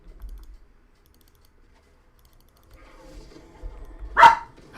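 A single sharp dog bark rings out near the end, after several quiet seconds with faint clicking.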